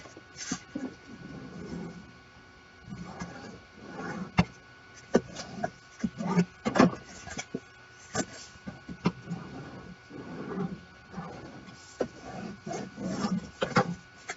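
Paper being wrapped and folded around to form a pocket, with scattered crinkles, rubs and light taps in an irregular rhythm, close and fairly quiet.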